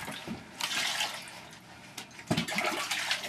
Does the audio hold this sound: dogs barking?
no